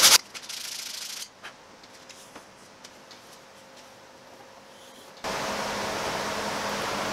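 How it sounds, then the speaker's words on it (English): Hand sanding of a round-over on thin wood just under an eighth of an inch thick: steady, close abrasive rubbing that runs briefly, quiets to faint scratching, then returns as a louder continuous rasp. "I'm going to just sand a round over on it, because this is thin"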